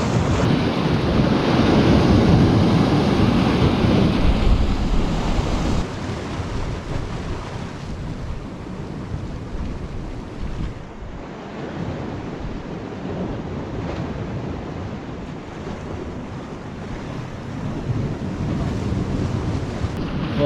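Ocean waves wash steadily onto a UK shore under heavy wind buffeting the microphone, loud at first, then settling into a constant roar.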